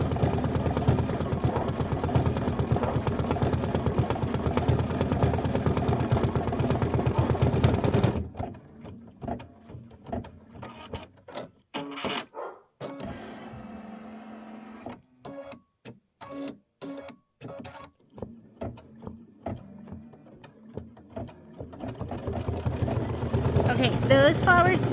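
A Kimberbell embroidery sewing machine stitching down fringe on a quilt block, its motor humming loudly and steadily, then breaking into a choppy run of short stitching bursts and pauses, with a voice talking alongside.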